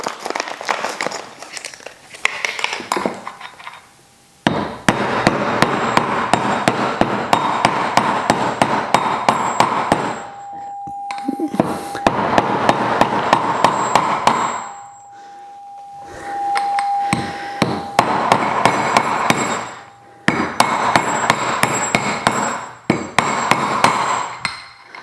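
A new outer bearing being hammered into a Wahoo KickR V4 turbo trainer, sharp metallic blows in fast, dense bursts separated by short pauses, with a ringing tone that shifts as the bearing seats; loud and close.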